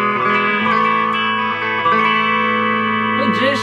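Clean electric guitar tone played through a BOSS Dual Cube mini amp, sustained chords ringing with steady harmonic layers, a few strums restruck along the way, close and moderately loud, with no talk.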